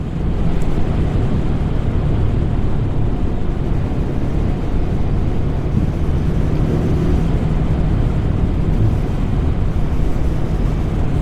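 A Voge 350AC motorcycle is ridden at speed, its engine droning steadily beneath heavy rushing wind buffeting the microphone, loud and continuous without a break.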